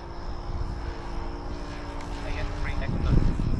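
A Hangar 9 Christen Eagle RC plane with a Saito 125 engine flies at half throttle, its engine drone steady and building slightly louder near the end, with a voice talking over it.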